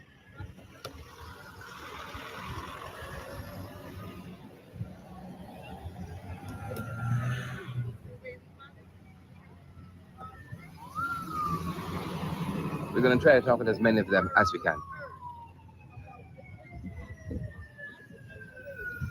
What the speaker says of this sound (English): We got some sirens at the back of us.